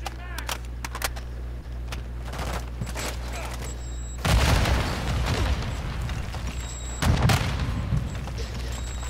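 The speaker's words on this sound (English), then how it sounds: "Explosions, though." Bursts of booming blasts and rapid popping gunfire from a video game, loud and close, with a lull in the middle before the explosions return.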